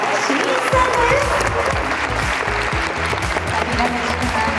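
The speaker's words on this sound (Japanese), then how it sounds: "大きな拍手でお迎えください" Audience applause welcoming Olympian and Paralympian guests at a Japanese talk show event, dense and continuous clapping with steady loudness over background music throughout.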